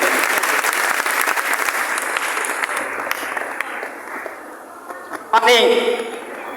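Steady, loud applause from a seated audience as speakers come onto the stage at a live event. It gradually thins and softens, and a voice then speaks at close range near the end.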